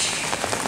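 Rain pours down on a village, a dense, continuous hiss of drops hitting surfaces, close and steady with no voices.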